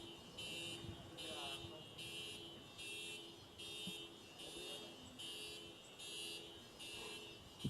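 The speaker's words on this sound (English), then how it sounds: "Maybe someone's car alarm goes off." A car alarm wails in a repeating, pulsing pattern in the background of a Davis Cup tennis match between Barbados and Indonesia while a crowd murmurs and a voice talks over it.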